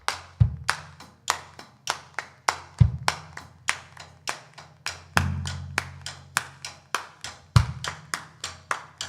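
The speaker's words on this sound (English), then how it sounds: "If you guys could just clap like this." A church congregation clapping along in a steady, evenly spaced rhythm, crisp and close, with a deep thump landing on some beats alongside.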